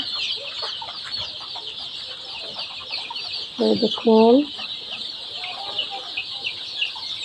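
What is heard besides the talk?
chickens clucking while eating on a poultry farm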